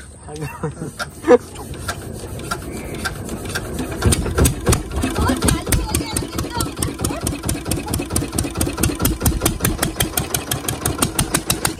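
A small boat's engine near Bakkhali beach puttering in a fast, even pulse that steadies after a start, with voices talking over it.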